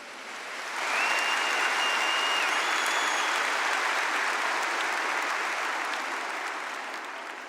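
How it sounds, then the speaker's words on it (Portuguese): A congregation bursts into broad, sustained applause that fills the room and stays loud and steady for several seconds before easing slightly toward the end. "Aplauda José de Arimateia"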